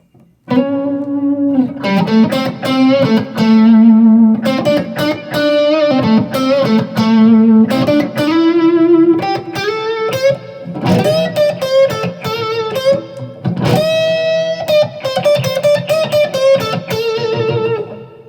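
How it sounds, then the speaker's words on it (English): Electric guitar plays a melodic line drenched in reverb and echo, notes ringing and trailing into each other, loud and continuous with no talking. "Here you have lots of reverb. You've got some echo, right?"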